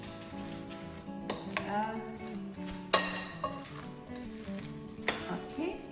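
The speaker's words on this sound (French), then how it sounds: "On va lui redonner un petit coup pour la brasser, la mélanger." A spoon stirs an egg and pollock filling in a bowl for no-cook summer rolls, giving quiet scraping with a few sharper clinks and knocks against the bowl. A voice speaks briefly.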